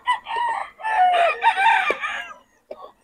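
Roosters and chickens at a fowl market in Bocaue: a close rooster crow with clucking and short calls, ending in a brief faint cluck after a pause.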